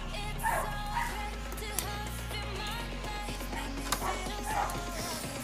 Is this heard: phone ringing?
no